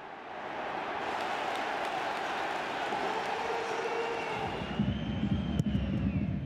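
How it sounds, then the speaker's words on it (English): A stadium crowd roars after a goal at the Luigi Ferraris during a Serie A match between Genoa and Salernitana. The dense, sustained roar swells and holds for several seconds, with rougher, busier noise near the end. "His first goal in 5 matches, and the crowd at the Luigi Ferraris erupt."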